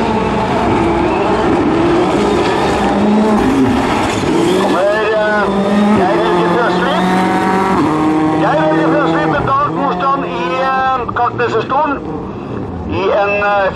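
A Ford Fiesta R5 rally car on a special stage at Rally Hedemarken revs hard through rising and falling gear changes, loud and close, with a commentator talking over much of it.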